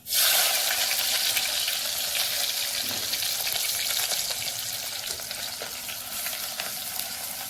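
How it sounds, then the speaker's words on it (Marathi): Chopped onion dropped into hot tempering oil for a Konkani mushroom dish, bursting into a loud, bright, continuous sizzle that eases only slightly as it goes on, close by with no talk. "मी आता फोडणीत कांदो टाकते"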